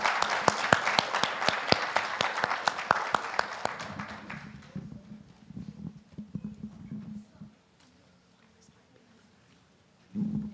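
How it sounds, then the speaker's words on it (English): Applause for new inductees at a church induction service, a round of sharp clapping from a gathered congregation that thins out after a few seconds, followed by a quiet room with a brief noise at the end. "Can we please have another round of applause for our new inductees?"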